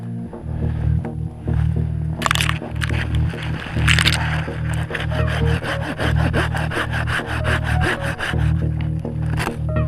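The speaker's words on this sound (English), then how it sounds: "I'm just going to take that with my saw." A hand saw cuts through a wooden pole outdoors in winter, its rapid back-and-forth strokes rasping steadily and loudly close by, with a brief pause partway through the cut.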